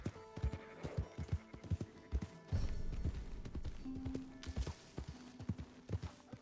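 Horse hooves in Red Dead Redemption 2 clop in a quick, uneven rhythm close by, joined briefly by a horse's whinny and some clattering.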